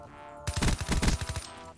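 A Galil rifle in Call of Duty fires one rapid burst of about eight or nine close, loud shots in an even rhythm. The burst lasts roughly a second, and then the sound cuts off.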